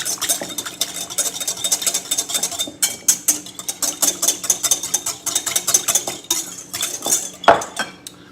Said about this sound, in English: we're just going to whisk that